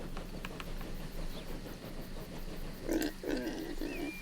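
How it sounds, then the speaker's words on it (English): Sheep on a farm in Transport Fever 2 give a pig-like grunting oink, a short burst of a few calls near the end over quiet game ambience. "It made a pig noise, but those are definitely sheep."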